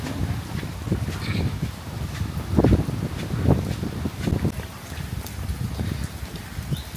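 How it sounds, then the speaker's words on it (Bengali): Strong wind during rain buffets the microphone in rough, rumbling gusts, with several louder blasts swelling and fading over a constant roar. "বাতাস অনেক"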